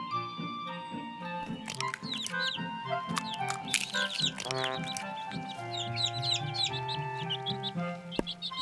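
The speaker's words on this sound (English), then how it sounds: "and more birds" Birds call in an animated Beginners Bible creation scene: a dense, lively mix of chirps, squeaks and clucks layered over musical tones, close and continuous throughout.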